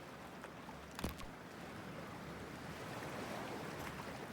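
Cold water washes and sloshes steadily around a character wading into it in Cyberpunk 2077, a broad surf-like rush with one brief splash near the start, no talking.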